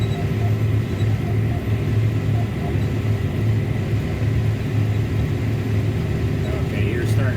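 A John Deere 7930 tractor pulls a Pottinger triple mower through hay, its engine a steady, loud, low droning rumble heard from inside the cab throughout, with a brief higher whine near the end.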